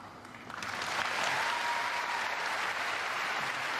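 An arena audience at the 1997 Eurovision Song Contest erupts into broad, continuous applause that swells after the first half second and holds evenly, dense and roomy.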